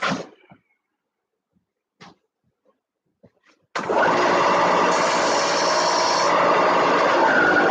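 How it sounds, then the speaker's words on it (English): A power sander grinds material off a fuselage part of a Sig Kougar model airplane under restoration. A few faint knocks come first, then a loud, steady, close grinding whir runs unbroken to the end. "I'm going to take a little bit off on the sander here."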